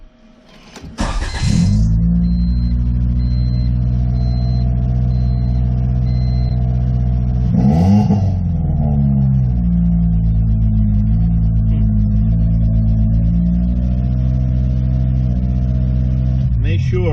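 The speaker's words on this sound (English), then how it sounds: "But the car is running." A Honda B20 VTEC car engine idles loudly and steadily after a brief start-up rev, with a couple of short bursts of noise along the way and a voice heard faintly over the running motor.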